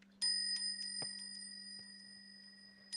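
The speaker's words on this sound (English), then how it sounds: "they're just brass bells on like little sticks, but they make a nice little bell ringing kind of sound" Small brass rain bells mounted on little sticks from a garden ring in a few bright metallic strikes with long, clear ringing tones, close and quiet in a still room.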